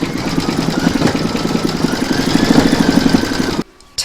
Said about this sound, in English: load whatever colour you want for that into your machine. I'm using black, and then stitch round number 10